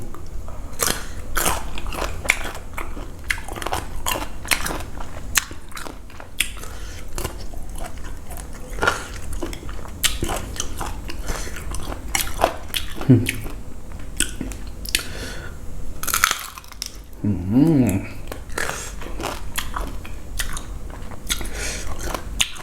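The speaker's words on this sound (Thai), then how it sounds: "เสียงกรอบ" Crisp, crunchy bites and chewing of pickled tamarind and sour green mango eaten with chili salt, close and repeated in an irregular rhythm, with occasional mouth noises and no talk.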